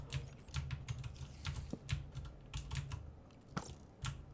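Rapid, faint typing on a computer keyboard, soft irregular key clicks with occasional low thumps, heard alone at close range.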